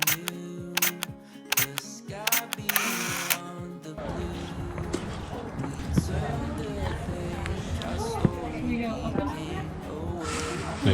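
A camera shutter clicks several times in quick succession while a selfie is snapped on the Precipice Trail in Acadia, near Bar Harbor, Maine; afterward voices and outdoor bustle continue over steady background noise.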